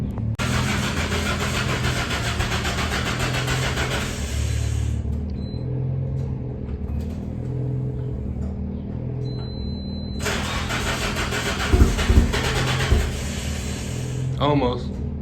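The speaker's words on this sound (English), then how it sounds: "Cold start on the 40." Nissan 240SX (S13) engine cold-starting, with cranking and a rough rumbling idle that drops off midway and then catches again, loud and close, while people talk over it.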